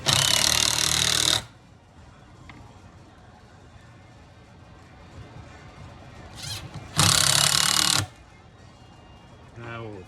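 A power driver starts screws in a shop while working on a Stihl 064 clutch, two loud bursts of buzzing motor noise separated by quieter handling sounds, close by.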